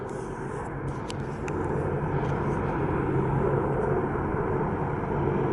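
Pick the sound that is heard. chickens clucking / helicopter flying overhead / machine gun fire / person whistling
helicopter flying overhead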